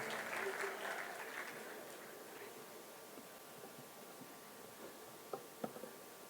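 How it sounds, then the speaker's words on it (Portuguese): Audience at an education conference on rural schooling gives a faint, distant round of applause that fades into quiet room noise with a few scattered claps near the end. "Fuerte el aplauso para ella y la bienvenida."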